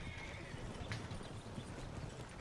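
Rhythmic hoofbeats of a galloping horse in Red Dead Redemption 2 thud steadily over a dense rumbling background, with a brief higher burst midway.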